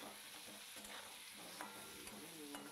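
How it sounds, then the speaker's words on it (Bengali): Potatoes seasoned with salt and turmeric frying in a pan, a soft continuous sizzle with faint scraping stirs throughout. "আলুটাকে সুন্দর করে ভেজে নিতে হবে।"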